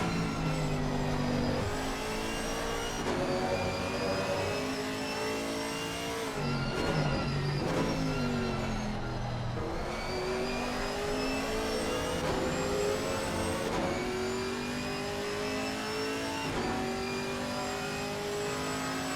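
GT4 race cars lapping Circuit of the Americas in a sim racing game, engines revving and shifting steadily with several cars close together, a continuous loud engine drone with rising and falling pitch throughout.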